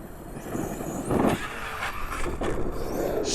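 An Arrma Outcast 8S EXB RC car drives on a bash track, its electric motor whining and surging in short bursts with tire and chassis noise, fairly close over steady outdoor background.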